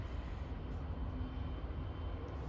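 An EasyJet airliner passing at LAX, a steady, faint, distant rumbling jet roar that holds evenly throughout, with no talking.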